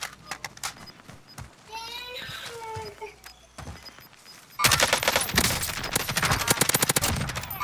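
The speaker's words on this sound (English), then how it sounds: "Yeah, I hear them shooting." Rapid gunfire from Call of Duty Warzone in a quads match, starting after a few scattered shots and growing into loud, sustained bursts of automatic fire, with players talking in between.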